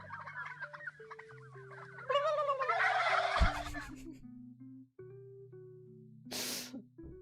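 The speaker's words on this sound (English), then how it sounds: "Why are turkeys like the funniest things?" Turkeys gobble and cluck in rapid warbling bursts, several birds calling in overlapping fowl chatter with a sharp sneeze-like squawk near the end, moderately close, no speech.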